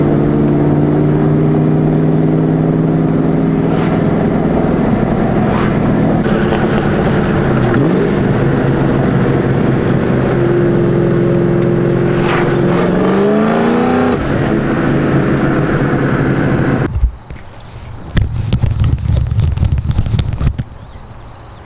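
A Ford Mustang GT with an SLP exhaust and H-pipe revs loudly and steadily, its engine tone rising and falling through repeated rev sweeps, then giving way to a brief noisy burst near the end, with no talking.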